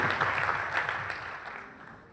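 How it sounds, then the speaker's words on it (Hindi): Audience applause at a corporate incentive trip gathering, a burst of clapping and crowd noise that gradually fades over about two seconds. "एक बार खुद अपने लिए एक बार और तालियां बजाएं."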